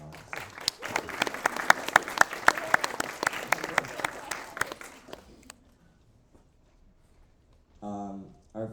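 Audience applause welcomes the panelists at a school invention-studio demo day, a dense round of clapping for about five seconds that fades out, then a brief voice begins near the end.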